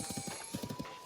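Horse hooves clip-clopping in a quick, steady rhythm as the horse starts to gallop in Zelda: Tears of the Kingdom, fairly faint and with no talk over them.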